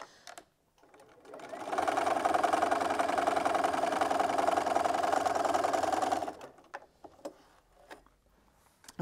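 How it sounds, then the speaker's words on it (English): A sewing machine stitching a seam on quilt fabric, a steady fast mechanical whir running for about four seconds, starting and stopping cleanly, with quiet handling noises before and after. "Just line that up and sew that."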